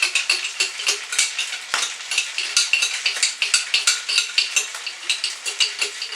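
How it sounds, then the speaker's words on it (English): A spoon scrapes pasta sauce out of a bowl into a pan in quick, rhythmic strokes, with close, clear scraping and clinking and a faint sizzle under it. "Now the trick is to get all this pasta sauce in the bowl, in the pan."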